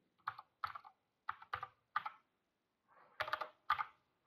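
Python code being typed on a computer keyboard, with a few quiet, close clusters of key clicks separated by short pauses and no speech.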